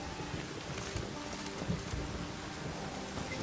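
Steady rainfall in The Witcher 3, a dense, continuous hiss of drops with faint low rumbles like distant thunder, even and unbroken throughout.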